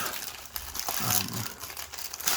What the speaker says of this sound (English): peeling open the bag, and then you can just go ahead and reseal it afterwards